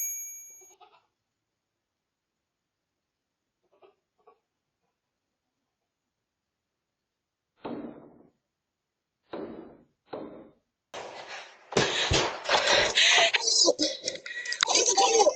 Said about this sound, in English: Looks like he's trying to ram his head through the door.